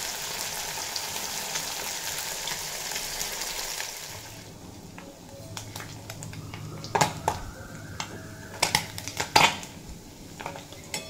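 Mourala fish coated with salt and turmeric fry in a pan, a steady hiss and sizzle that drops lower partway through, followed by several sharp metallic clinks of utensils against the pan.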